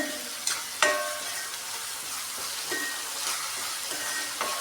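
Onions with salt being stirred in a frying pan, a constant close hiss of sizzling with a few utensil clacks against the pan and no voices.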